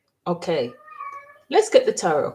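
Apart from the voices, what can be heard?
cat in heat meowing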